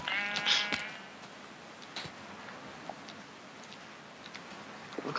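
Colored Minecraft sheep let out a couple of short bleats near the start, then only faint, sparse ticks and clicks follow over a quiet background.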